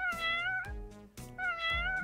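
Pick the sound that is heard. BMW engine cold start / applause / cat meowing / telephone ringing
cat meowing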